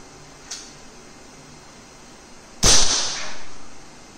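A Valiente air rifle converted to PCP fires one sharp, loud shot that cracks out and decays over about a second, preceded by a faint click, with no talk.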